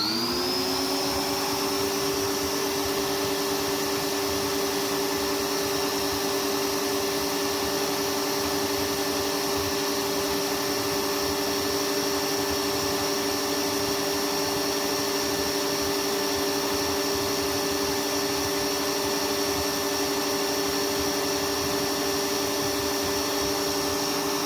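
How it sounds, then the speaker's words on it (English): A Prolux CTX vacuum's 150 watt EBK 360 power nozzle spins up to a steady, high-pitched whining drone that rises slightly and then holds, loud and continuous with no talking. "Let's see how fast this now verified 150 watt EBK 360 power nozzle spins."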